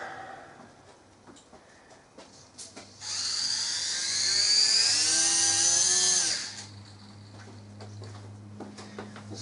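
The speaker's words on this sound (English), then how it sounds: "So let's see what 2S does in a 3S helicopter." A WL Toys V950 RC helicopter, a 3S model running on a 2S battery, spins up with a rising high-pitched motor whine that climbs and holds for a few seconds, then cuts off, leaving a low hum and light ticking.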